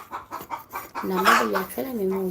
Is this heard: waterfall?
no